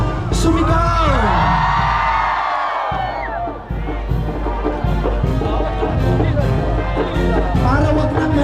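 A crowd yells and cheers at a fiesta rally in Obando honoring Nuestra Señora de Salambao, with loud sustained shouting and whoops that swell, briefly dip, then surge again with mixed voices.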